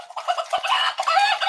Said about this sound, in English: he's my cockerel